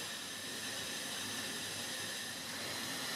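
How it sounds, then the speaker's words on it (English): A pot of potato and tomato soup coming to the boil gives off a steady, even hiss and rush of bubbling and steam, close and constant throughout with no voices. "you can see it's bubbling quite nicely around the outsides"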